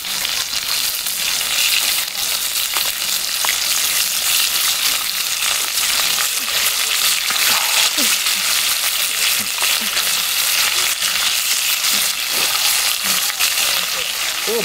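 Thick pork belly slices fry in a Lodge cast iron pot over a portable wood-burning camp stove outdoors, giving a steady, loud, dense sizzle with crackles throughout.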